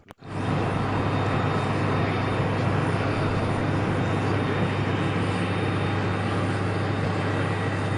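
An aircraft landing at Heathrow produces a broad, steady roar that begins abruptly and holds level throughout, with a low hum beneath and no voices.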